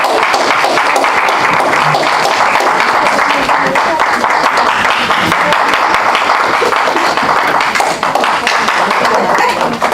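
An audience at a Toastmasters poetry meeting gives sustained, dense applause that continues steadily for the full ten seconds, with no speech.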